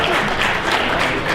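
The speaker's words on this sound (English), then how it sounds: "Let's give another round of applause to all 12 of our contestants" Crowd at the preliminary round of the 2018 Kansas Auctioneer Championship applauding the twelve contestants, a dense, even roar of clapping from many hands throughout the moment.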